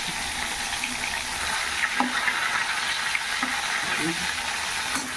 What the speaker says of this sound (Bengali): এখানটায় মাছ ভাজা চাপিয়েছি এরকম আমরা এই লাল লাল করে মাছ ভাজা মাছগুলো ভেজে নিচ্ছি